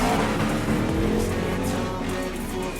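Drift cars in a drift competition at Poti, engines roaring loudly and continuously with a broad, dense tyre-and-motor wash that eases slightly toward the end.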